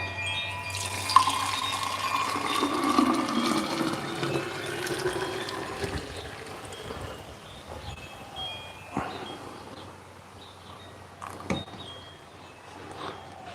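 Homemade plant-based milk pours steadily into a half-gallon glass jar, a continuous close liquid rush that gradually fades, with a few light knocks of the container near the end.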